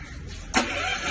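A Bajaj M 12.5 kW low-noise petrol portable generator starts abruptly midway through, jumping from quiet background to a steady, loud engine drone that holds to the end.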